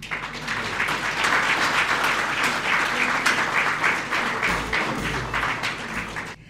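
Audience at the launch of Danielle Ah's book applauds steadily as she is invited to the microphone, a dense, even wash of many hands clapping that lasts several seconds with no talk.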